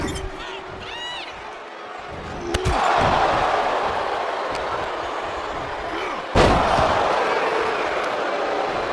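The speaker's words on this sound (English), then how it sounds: "taking Williams down with a devastating avalanche phantom driver." Wrestling slams in the WWE 2K24 video game: two heavy thuds land about four seconds apart, each followed by a swelling arena crowd roar, with a commentator's voice underneath.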